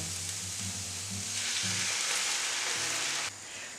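Onions caramelizing with sugar sizzle steadily in a pan, a dense frying hiss that swells and brightens as broth is added, then settles slightly near the end, with no talking.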